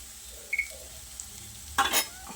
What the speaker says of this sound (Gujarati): મસાલો સરસ ફ્રાય થઈ ગયો છે